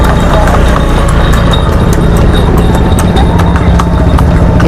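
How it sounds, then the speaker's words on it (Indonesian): Horse hooves clip-clop at a lakeside tourist spot, Sarangan Lake, with a steady wash of crowd noise and distant engines underneath and no clear pauses. "Ini kuda juga ada."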